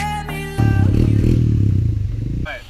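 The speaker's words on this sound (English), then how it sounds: "Today, I'm gonna show you how to wheelie the Honda 250 EX." A Honda 250EX ATV engine runs close by, with a loud, low, throbbing idle that lasts about two seconds. Brief tonal sounds come just before and after it.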